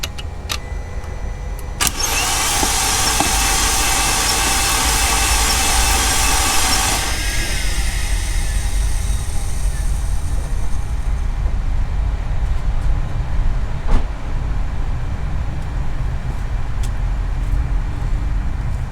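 A 2008 Mercedes CLK350 with an M272 engine, previously locked, cranks with its spark plugs removed: a loud, even starter whir spins the engine for several seconds, then stops, leaving a steady low background drone.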